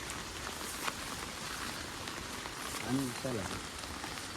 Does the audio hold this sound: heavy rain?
yes